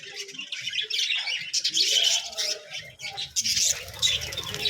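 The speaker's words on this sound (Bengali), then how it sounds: "আমরা দেখি কি সুন্দর পাখি কলোনির ভিতরে।" A colony of budgerigars in an aviary chirps and squawks in busy overlapping bursts, close and lively, with occasional wing flutters and scratchy movement underneath.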